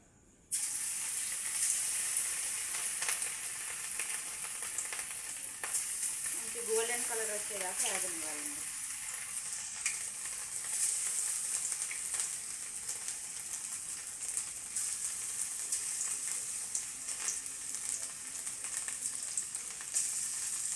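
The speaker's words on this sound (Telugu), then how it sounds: "నూనె అయితే బాగా కాగిందండి జీడిపప్పు ఇందులో వేసేసి ఇప్పుడు" Cashew nuts frying in hot oil in a pan, a steady loud sizzle running the whole time with a brief bubbling burst near the middle.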